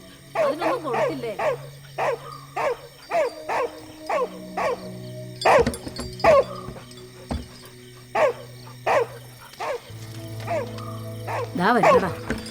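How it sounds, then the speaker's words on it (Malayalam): A dog barks repeatedly in short, evenly spaced bursts at close range, some with a whining edge, while a voice talks in between. "ആ പട്ടിക്ക് വിശന്നിട്ടായിരിക്കും അല്ലെങ്കിൽ കുറയ്ക്കുന്നേ"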